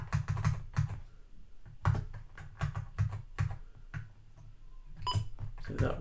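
Keys tapped on an Apple IIGS keyboard while playing a keyboard-controlled Minesweeper-style game: irregular bursts of crisp, close clicks, some in quick clusters, separated by short pauses.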